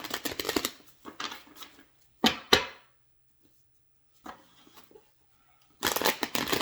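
Tarot cards shuffled by hand in several separate bursts, each a quick riffle of papery flutter and slaps, close and fairly clear, with short quiet gaps between them and no talking.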